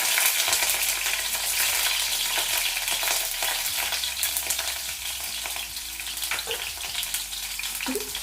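Mustard seeds, cumin and chopped green chilies crackle and sizzle in hot oil in a pan, a loud, dense, continuous frying hiss with small pops, close up and with no voices.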